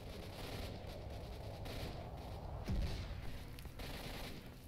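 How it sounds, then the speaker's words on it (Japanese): Faint, distant bursts of video game gunfire in S.T.A.L.K.E.R.: Shadow of Chernobyl crackle over a dense, steady rumble, with one sharper low thud near the middle. "ずっとこっちの方で銃声するんだよね。"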